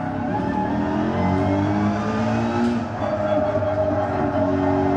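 Race car engine on the Nurburgring GP track in a sim racing game, a steady loud drone of revs rising and falling with layered harmonics throughout, no talk over it.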